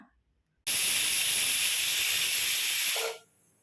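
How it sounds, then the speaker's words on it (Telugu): A pressure cooker used for making sabudana payasam vents steam after its whistles, a loud, steady hiss that starts abruptly, holds for about two and a half seconds, then tapers off. "రెండు విజిల్స్ వచ్చి ఆవిరిపోయిన తర్వాత"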